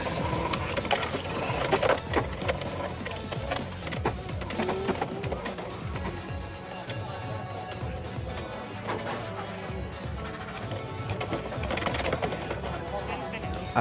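Beyblade X tops battle in a stadium, clattering and scraping against each other in a busy stream of clashes and sharp hits, with people talking over the action.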